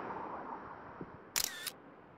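A single camera shutter clicks sharply once, close and brief, after a faint quiet stretch.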